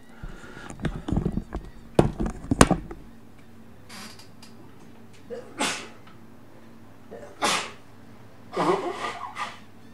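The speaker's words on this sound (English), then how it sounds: "Oh dear, I'm going to sneeze, I think." A man sneezes at close range while playing a computer game, a sudden loud burst followed by several shorter breathy sniffs and rustles.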